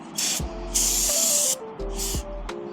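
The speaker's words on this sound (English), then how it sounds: "We're gonna spray off the brake disc with some brake cleaner." Three bursts of brake cleaner spraying onto a dirt bike's brake disc, hissing close up, separated by short pauses, with a faint mechanical hum underneath.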